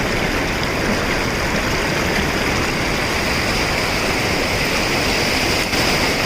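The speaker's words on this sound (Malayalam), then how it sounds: "വെള്ളത്തിന്റെ ഒഴുക്കുന്നുണ്ട്." A strong forest stream surges past in Idukki, its current rushing hard, making a dense, steady roar of water that stays loud and close without pause.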